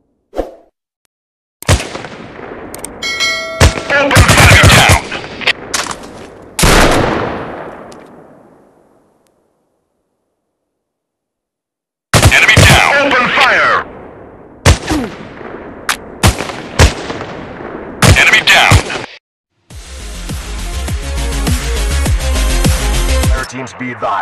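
Bursts of gunfire ring out in the mobile shooter FPS Shooting Gun Strike War 2, loud close volleys broken by short silences, ending in a sustained rattling stretch of shots.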